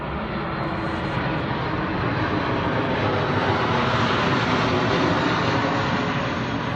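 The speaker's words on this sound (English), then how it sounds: "Plane." An airplane flies overhead, its loud, steady broadband engine roar filling the whole stretch without a break.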